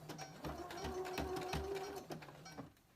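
A sewing machine stitches a baby blanket at a slow pace, its needle clattering in a steady, close rhythm that pauses briefly before resuming.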